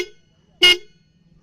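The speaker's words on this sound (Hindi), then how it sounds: "डॉनिक्स करके कंपनी वो वाली हॉर्न लगी है" A short, loud blast from a Donix horn fitted to a Royal Enfield Bullet 350 BS6 Standard motorcycle, sounding once at close range with silence before and after.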